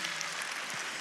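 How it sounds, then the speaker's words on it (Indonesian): A church congregation claps after a sermon cue, giving a short, even wash of applause heard at a moderate distance. "Beri tepuk tangan yang meriah sekali lagi."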